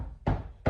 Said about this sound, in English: every single night at the same time this knocking starts